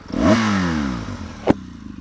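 A BMW R1200GS motorcycle engine revs up in a quick rising pull, then settles to a running burble, cut by a single sharp clack near the end.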